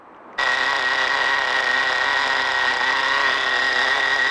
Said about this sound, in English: That's what happens if you back the air screw out. The engine will die.